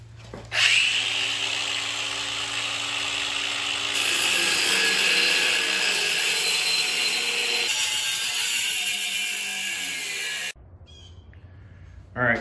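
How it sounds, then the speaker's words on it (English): Angle grinder cutting on a steel rear bumper mount of a 6.0 Ford Excursion, heard as a loud, continuous high whine held close for about ten seconds, dropping in pitch partway through, then cutting out and spinning down. "We'll hit it with a grinder here, see what this gives us."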